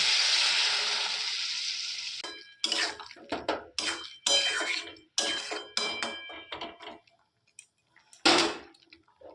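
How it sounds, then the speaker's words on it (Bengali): Hot water poured into a pan of frying potato, pointed gourd and prawn curry, a long hissing pour followed by sharp bursts of sizzling and clattering of the pan, fading to quiet with a final splutter. "আলু পটল এবং চিংড়ি মাছ আমার কষা হয়ে গেছে আমি এতে অল্প গরম জল দিয়ে দিচ্ছি"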